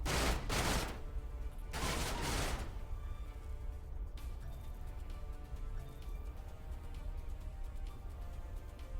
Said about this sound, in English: Well, we can just open fire. Let's mark that and shoot the crap out of it.